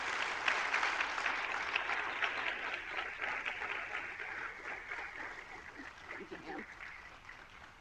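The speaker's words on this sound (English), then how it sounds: "Let's give her a warm round of applause" An audience at an Air Force Research Laboratory event at Wright-Patterson Air Force Base gives sustained, dense applause that swells early and then slowly fades over several seconds.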